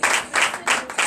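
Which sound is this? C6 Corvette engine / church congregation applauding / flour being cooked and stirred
church congregation applauding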